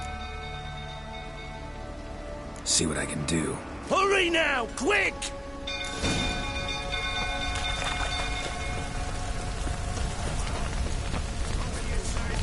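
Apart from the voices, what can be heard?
rain falling in the video game The Witcher 3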